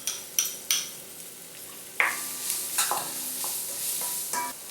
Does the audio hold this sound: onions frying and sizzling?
yes